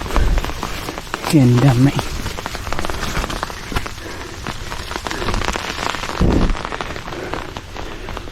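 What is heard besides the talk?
light rain falling at a viewpoint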